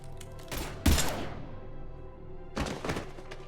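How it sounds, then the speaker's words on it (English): Gunfire in the video game Mass Effect Legendary Edition, a couple of heavy booming bursts separated by a quieter stretch, loud and echoing against a low background with no speech. "Now open fire!"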